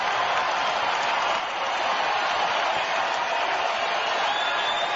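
A baseball stadium crowd at Colorado, with San Diego visiting, makes a steady, unbroken wash of cheering and noise with a two-strike count, heard through a narrow radio-broadcast sound and holding level throughout.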